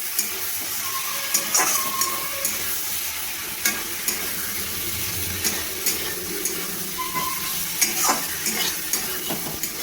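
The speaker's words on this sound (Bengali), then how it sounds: "এবার ভালোভাবে নাড়িয়ে নেব।" Dry chilli chicken with capsicum, onion, tomato sauce and soy sauce stirred in a pan, producing a steady close sizzle with regular scraping and tapping strokes of a spoon, no voices.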